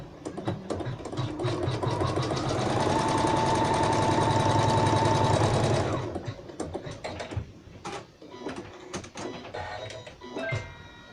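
An embroidery sewing machine stitches a fabric coaster, running in a loud, fast, steady mechanical buzz for several seconds, then stopping and leaving scattered clicks and small handling taps.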